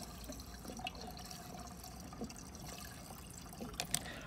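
Gasoline pouring into a Sceptor emergency gas can, a steady liquid trickle and gurgle with small drips, close and fairly quiet against a continuous background.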